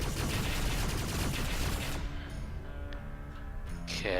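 Heavy scatter turret fire in a video game, a dense, loud barrage of rapid shots and blasts for two seconds that drops to a rumbling mechanical tail with scattered clicks, then a rising electronic tone at the end.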